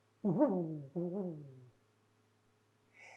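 Two deep hoots of a great horned owl, apparently imitated by a human voice. They come close and clear, one after the other, and are followed by silence and a faint sound at the end.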